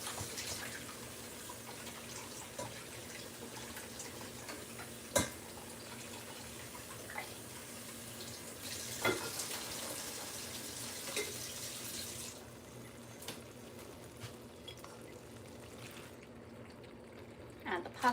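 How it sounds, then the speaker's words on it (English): Boiled pasta water pours out of a pan into a sink, a steady rushing gush near the mic that runs for roughly twelve seconds before tapering to a faint trickle, with a few clatters of the pan. "I'm gonna drain my pasta here real quick"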